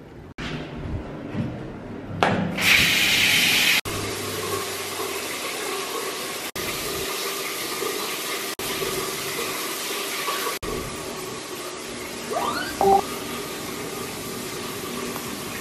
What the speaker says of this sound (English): Shower time though.